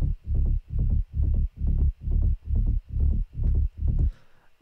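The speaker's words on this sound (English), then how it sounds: "And then we have a rumble side bass, which sounds like this." An EDM rumble side bass from the Nexus Rolling Bass 3 preset in a bigroom techno production pulses eight times in a steady rhythm, with loud, sustained low throbs and a short tail at the end.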